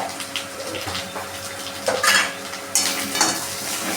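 Turmeric, Kashmiri chili powder and other ground spices fry in a pan while being stirred, a loud close sizzle with scraping strokes that swells sharply twice as the mix is turned, no voices.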